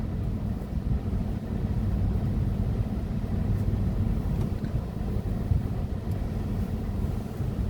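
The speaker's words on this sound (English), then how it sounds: "There's nobody here right now, so I'm just gonna leave the truck running for a bit." A truck sits idling at Mount Diablo, its engine giving a steady, even low rumble with faint wind noise throughout and no talking.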